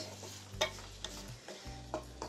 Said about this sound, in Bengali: এখন এসব কিছু আমি ভুনা করে নেব কয়েক মিনিট